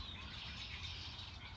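A flock of red-winged blackbirds calls in a steady, dense chorus of chirps and trills from unseen birds on a warm day, continuous throughout over a low outdoor rumble.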